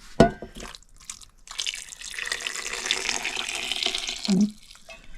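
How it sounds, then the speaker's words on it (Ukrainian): Water splashes into a cooking pot while stuffed peppers with meat and rice are being prepared, a steady pour of a few seconds in a home kitchen, followed by a brief clunk near the end; no talk. "трохи водички доливати"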